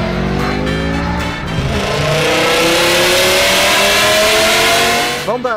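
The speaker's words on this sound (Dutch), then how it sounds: "Vandaag met Aaron van Gijsbertsen en hij heeft meegenomen zijn BMW M6" BMW M6 engine revving loudly and close, the pitch climbing steadily as it accelerates through a sustained roar that cuts off sharply near the end.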